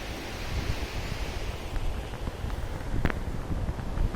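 Sea waves wash along a beach as a quiet, continuous hiss of surf with faint breaking swells and a brief brighter splash near the end, heard alone without voices.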